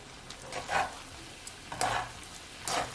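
Shrimp are stirred into garlic noodles in a pan, giving soft scraping and sizzling strokes in three gentle bursts, close and fairly quiet.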